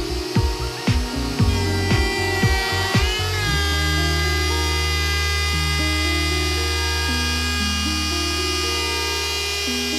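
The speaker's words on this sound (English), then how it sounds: "I grabbed an OG bit and cut that right out" Router fitted with an ogee bit cutting into the cedar top of a DIY subwoofer box, several sharp whining bursts at first, then one sustained high-pitched motor tone with buzzing harmonics.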